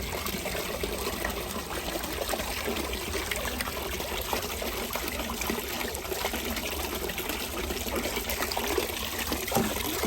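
Water trickles steadily from a Geometrica fountain, a continuous even splashing and dribbling that stays at a constant level throughout with no voices.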